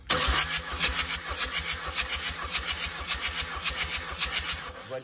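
A Kia Sorento D4HB diesel engine cranks without firing during a compression test, a rapid rhythmic chugging of about four pulses per second, loud and close, stopping abruptly at the end.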